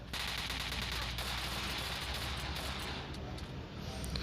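Rapid automatic gunfire from an H12 rifle in the mobile shooter PUBG Mobile Lite rattles on continuously as an enemy is shot, a dense sustained burst at moderate level.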